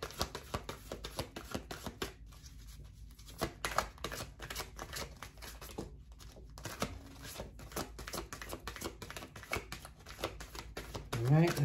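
A deck of tarot or oracle cards is shuffled repeatedly in a steady, riffling flutter. The crisp card noise stays close and fairly loud throughout, with a brief pause before it resumes.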